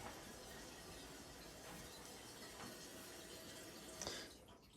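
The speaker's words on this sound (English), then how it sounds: "The toilet down here is running a little bit." Water running steadily in a house toilet that keeps filling, a faint continuous hiss and trickle with a slight swell near the end, no voices.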